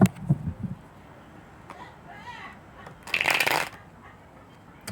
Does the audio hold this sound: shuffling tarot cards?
yes